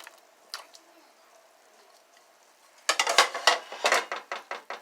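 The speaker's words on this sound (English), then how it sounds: "Now it's time to add in the celery and carrots." Celery and carrots drop into a pot of Thai noodle soup with a rapid series of clattering, knocking thuds. A few softer clinks come first and fade into quiet kitchen background noise.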